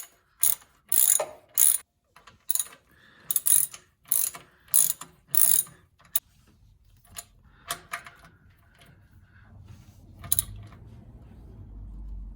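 A wrench ratchets as a new slave cylinder is tightened on an old Volvo Amazon 122, several bursts of quick clicking strokes close by with brief pauses, then fading to quiet mechanical fiddling.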